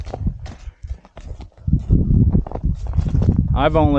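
Mule hooves clip-clop at a steady walking rhythm while the animal is ridden on hilly ground with a britchin-fitted saddle, close by and mixed with someone talking throughout.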